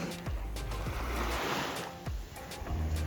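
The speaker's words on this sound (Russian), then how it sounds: "Море, конечно, изумительно прозрачное. Изумительно шумит." Mediterranean Sea waves wash and surge nearby at Salou, Spain, in December, with rushing water and gusty wind buffeting the microphone, no voices heard.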